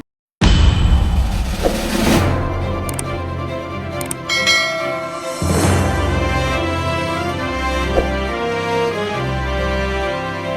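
A bright chime rings out, a bell tone marking the subscribe notification, struck loudly at the start then again several times, its shimmering ring decaying over a sustained musical bed.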